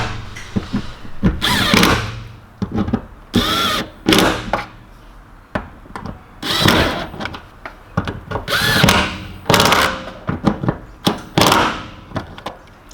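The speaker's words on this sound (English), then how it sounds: "it's now time to tighten them down to an appropriate amount, going around the edges one by one" Power tool tightening the bolts on a Toyota Corolla fuel pump cover during a fuel pump level sender replacement, heard as a series of short, loud, close drill bursts separated by brief pauses and handling clatter.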